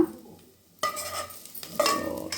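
Onions and cashews frying in oil for mushroom biryani, stirred with a spoon: near sizzle that swells after a quiet start, with scraping and clinks of the spoon against the pan.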